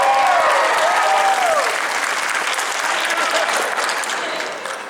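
A Comic Con crowd at a Q&A panel breaks into loud, full applause with some cheering and whoops, sustained and gradually easing off.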